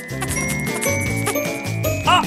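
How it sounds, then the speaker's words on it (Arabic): A bright bell jingles and tinkles inside a wall, a run of quick chiming rings over a steady tonal background that swell near the end. "من أين أتى هذا الجرس من الحائط؟"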